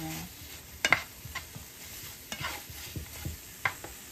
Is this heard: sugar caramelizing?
yes